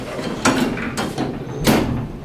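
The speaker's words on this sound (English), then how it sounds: "when the doors close, give them a little push closed" OTIS traction elevator doors at a shopping mall sliding shut, with three loud broadband whooshing and thudding bursts of door movement in a roughly even rhythm, heard up close.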